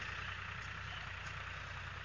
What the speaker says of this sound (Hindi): सामने ये खेत जोत रहा है, ट्रैक्टर चल रहा है।